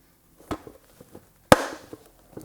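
Plastic intake tube snapping into place on a Suzuki GSX-8S motorcycle: a sharp click followed by a louder snap, with faint handling taps and rustles around them, close and quiet otherwise.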